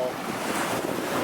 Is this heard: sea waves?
yes